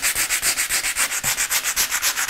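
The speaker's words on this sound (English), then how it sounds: "To give the area a key and to help the resin bond, I'm going to sand the area with the sandpaper" Sandpaper rubs back and forth over a composite kayak repair area in quick, even strokes, a close, loud, rhythmic scratching with no voices.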